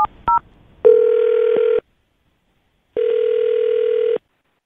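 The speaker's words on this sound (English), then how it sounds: "I'm going to dial her phone number right now and see if we can get her on the phone" Telephone dialing followed by a ringback tone: quick keypad beeps, then two long steady tone bursts separated by a silent pause, clear and alone.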